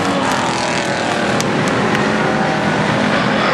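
Pure stock race cars roar around Barona Speedway in a main event, a dense, continuous engine drone filling the whole stretch with no pauses, loud and steady as the pack runs together.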